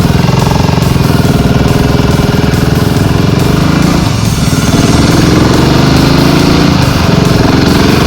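A BSA 650 Gold Star motorcycle engine warms up, running loud and steady close by with a continuous rough, pulsing idle throughout and no voices.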